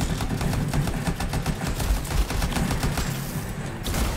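Gunfire in the video game Anthem crackles in rapid, dense bursts of shots at moderate volume, a continuous fusillade with no talking.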